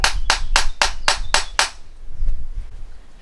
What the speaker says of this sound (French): en tapant, je vais rabattre le clou contre la paroi